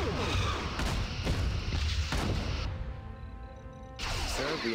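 Photon torpedoes firing in the Star Trek Online space combat game, a rapid run of loud punchy booms in quick succession, then a brief lull with a humming tone before the blasts resume.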